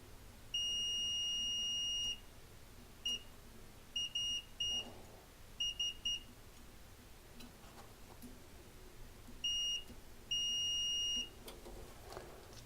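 A multimeter on continuity test beeps while a Vaillant Turbomax boiler is checked: a steady high electronic tone sounds in one long beep, then short intermittent blips and two more sustained beeps, close and clear over a quiet room with no talking.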